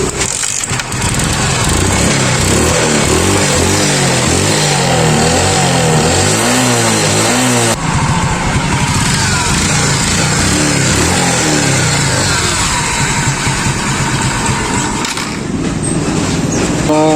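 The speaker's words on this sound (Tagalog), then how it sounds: "Umandar siya pero may maitim na usok problema, pwedeng carb" A Suzuki Smash motorcycle engine with a suspected carburettor fault and black smoke runs loud and close, with an uneven, sputtering idle and a few revs throughout.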